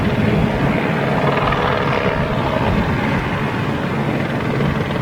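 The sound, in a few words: helicopter buzzing around at an airfield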